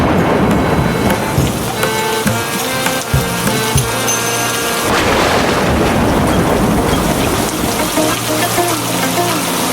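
Heavy rain pours down in a steady, loud, dense patter that drums on surfaces. Faint tonal background music plays underneath.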